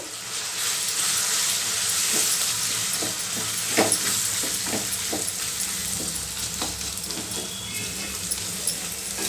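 Turmeric, chilli and sambar powder fry in hot oil as a steady close sizzle, broken by a few sharp scrapes of stirring.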